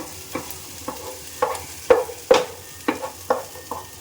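Tomatoes and onions sautéing in a pan for beef biryani hiss steadily while a spatula strikes and scrapes the pan in repeated close knocks, the louder ones in the middle.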